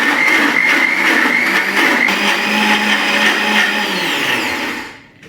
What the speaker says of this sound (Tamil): அரைக்க போகிறோம்